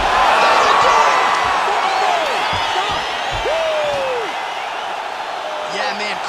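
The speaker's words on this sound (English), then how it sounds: "crowd loving it." A roaring arena crowd cheers after a knockout in the EA Sports UFC 5 video game, a loud, dense sustained roar with rising whoops, continuing steadily throughout.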